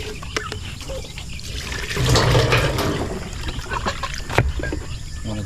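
Water pours and splashes steadily from a container as it is emptied and refilled, swelling louder for about a second midway before settling back into a lighter trickle.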